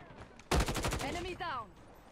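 A Grau 5.56 assault rifle fires a rapid burst of about eight shots in the mobile shooter COD Mobile, loud and close. A short voice line follows.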